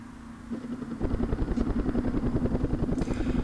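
Helicopter gunships flying nap-of-the-earth in a Vietnam war strategy game, a steady rotor thump with rhythmic blade chop building after the first second, fairly close and alone.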